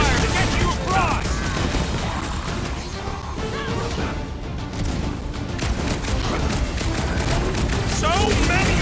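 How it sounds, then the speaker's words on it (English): Cover gunfire in the video game Guardians of the Galaxy, loud dense bursts of shots and crashing impacts running through the scene, easing briefly midway before rising again, with voices talking over it. "I'll lay down some cover fire to get you across."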